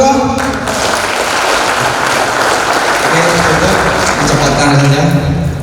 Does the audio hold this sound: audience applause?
yes